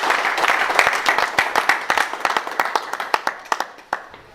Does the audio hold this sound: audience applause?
yes